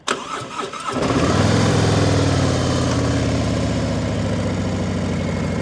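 A Harley-Davidson Road Glide motorcycle engine cranks and fires, then settles into a loud, steady, rumbling idle close by.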